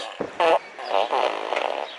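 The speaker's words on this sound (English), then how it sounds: "we have a couple remote control fart machines hidden around the yard" Electronic fart noises from a remote control fart machine: a short loud blat, then a longer wobbling, buzzy raspberry, heard outdoors in a yard with no talking.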